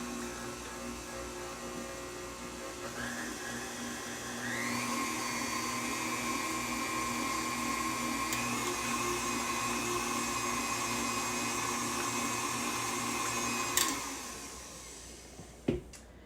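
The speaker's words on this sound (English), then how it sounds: "These mixers are notorious for not getting everything down and getting it mixed together." An electric mixer whirs steadily through honey bun cake batter, a continuous motor whine that climbs in speed partway and holds, ending with a couple of clunks as it stops.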